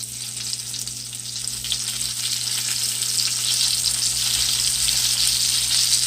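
Catfish fillets lie flesh side down in hot oil and sizzle loudly and steadily in a pan, a dense crackling hiss that builds slightly over a low hum, with no talking.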